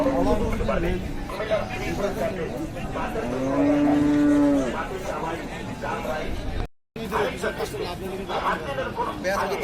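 Bulls low with a deep, drawn-out moo at a busy cattle market, heard amid steady crowd chatter and voices throughout.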